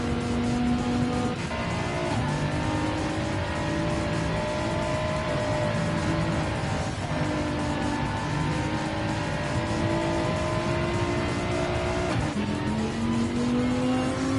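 Gr.4 race cars lapping a large track in Gran Turismo 7 give a steady, loud engine drone with rising pitch and a couple of gear-shift drops, continuous throughout with no talking.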